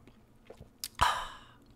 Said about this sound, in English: It's not polite to talk and chew at the same time.